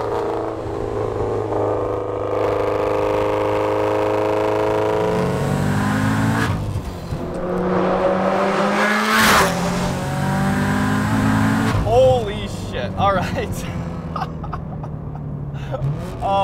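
A 600-horsepower Subaru STI revs and accelerates hard on the street, engine pitch climbing through gears with sharp shifts, a high screaming tone at upper revs and loud, close cabin roar throughout.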